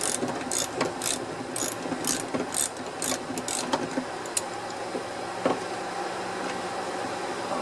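A ratchet wrench loosens the 12mm bolts on a Toyota lift gate piston, giving rapid, rhythmic ratcheting clicks in short bursts over a steady mechanical background, close and loud.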